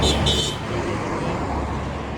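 Car horns beep in short bursts from passing traffic at a roadside shrine, sounding loud at first over a steady wash of road noise and passing vehicles.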